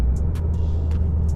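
Toyota GR Yaris with an aftermarket exhaust, a steady loud engine drone and rumble close by, holding fairly constant through the short stretch with a few faint high clicks, no distinct rising rev.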